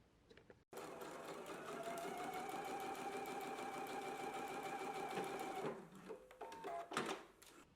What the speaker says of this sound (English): now we're going to go to the sewing machine and we're going to stitch